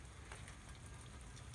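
Rain dripping and pattering onto surfaces just after a rainstorm outdoors, a steady close patter of droplets with soft taps throughout, no voices.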